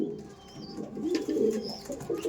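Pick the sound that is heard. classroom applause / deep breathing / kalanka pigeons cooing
kalanka pigeons cooing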